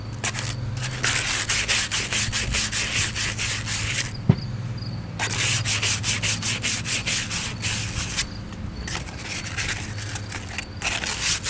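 Hand sanding with folded sandpaper on a wood piece for a rink rake, smoothing off burrs: steady rapid back-and-forth rubbing strokes, close and loud, with a brief pause near the middle.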